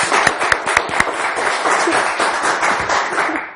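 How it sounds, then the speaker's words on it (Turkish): Steady applause from a game-show studio audience for several seconds, beginning with a few distinct sharp claps before blending into a continuous wash. "Bize bir teselli alkışı daha verir misiniz?"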